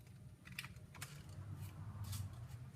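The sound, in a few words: paper being folded for an origami camera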